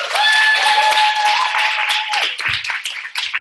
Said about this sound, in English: Let's give Dr. Sveta a warm round of applause.